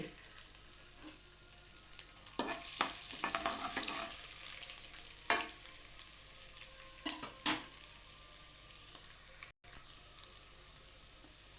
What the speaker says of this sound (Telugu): ఇప్పుడు ఇందులో అల్లం ముక్కలు కూడా వేసుకుందామండి